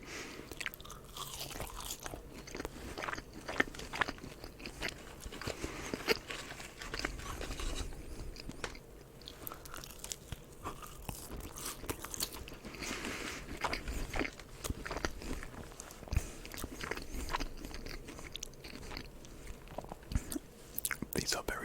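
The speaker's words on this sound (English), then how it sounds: "These are very salty chips" Salty chips are chewed and crunched right against the microphone, a continuous close run of crisp bites and mouth crackles, with soft whispered talk now and then.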